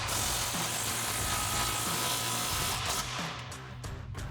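Impact wrench with a 15mm socket tightening an exhaust clamp behind the muffler of a RAM 2500, a loud, continuous close-up buzzing rattle of steady hammering that eases off near the end.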